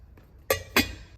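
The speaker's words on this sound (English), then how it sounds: "I'm gonna give it a stir now and let it steep for 15 minutes." A utensil stirring herbs steeping in 500 ml of boiled spring water knocks twice against the rim of a vessel, giving two bright, close clinks about a quarter second apart.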